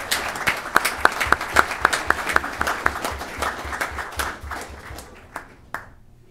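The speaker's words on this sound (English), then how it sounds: "Let's give her a big round of applause to become an Assemblywoman today" Applause for a newly sworn assemblywoman at a county freeholder meeting, with a handful of sharp, evenly spaced close claps over lighter clapping from the room that thins out and stops near the end.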